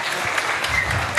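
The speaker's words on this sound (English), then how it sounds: "Can we have a big round of applause for the practice these guys have done?" An audience applauds after a cultural program performance: a dense, steady wash of many hands clapping at once, fairly loud and sustained for a brief stretch with no voices.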